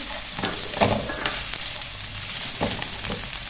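Medium onion dropped onto lightly browned garlic frying in oil in a pan, a steady close sizzle with a few scraping stirs and soft clatters of the spoon.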